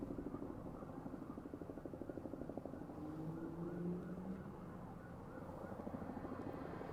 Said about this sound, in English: So those are 2 news helicopters